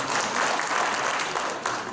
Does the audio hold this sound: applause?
yes